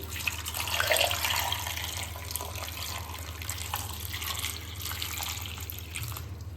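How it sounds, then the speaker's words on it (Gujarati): Water is poured into a pressure cooker of cut potatoes set for boiling, a steady close splashing rush that runs unbroken throughout with no voices. "આપણે બટાકા બાફવા માટે પાણી એડ કરી લઈશું."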